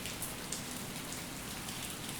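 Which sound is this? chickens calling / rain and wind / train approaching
rain and wind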